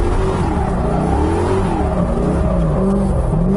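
Close, loud V8 from an LS-swapped Mazda Miata revving hard and steadily through figure eights, engine note rising and falling continuously with no talk.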